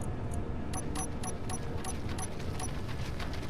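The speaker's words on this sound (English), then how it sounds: "that is the sound of a spider" Spider creature in the Space Engineers survival game, giving off a run of sharp, high chittering ticks at a steady pulse over a constant loud rumbling ambient bed.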